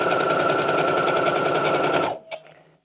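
Sewing machine running a 5/8 inch seam on a sleeve, a fast, loud, even chatter of stitching for about two seconds that cuts off, followed by a brief clack and fading mechanism noise.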